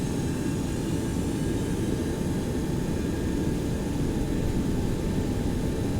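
Boeing 727-200F jet engines in X-Plane 11 run at a steady, loud roar near takeoff power, a broad continuous rumble with faint whining tones held evenly throughout.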